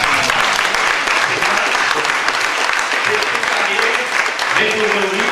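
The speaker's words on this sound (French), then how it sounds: "Vous pouvez l'applaudir." Audience applause for a European accordion champion at a gathering in Montsalvy, Auvergne: steady, dense clapping from a crowd, sustained and fairly loud, with faint voices beneath it.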